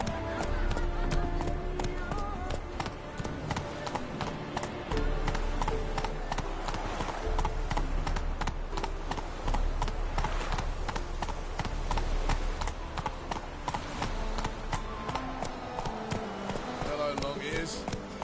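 Roach, the horse in The Witcher, gallops with a steady, rapid clip-clop of hooves that runs throughout over a constant game backdrop, while voices speak now and then.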